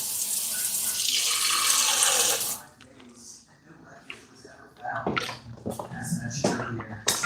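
Water gushes steadily from a tap for a couple of seconds while someone cleans at a home gym, then cuts off, leaving faint splashes and handling noises as someone talks nearby.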